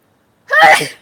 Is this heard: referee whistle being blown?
no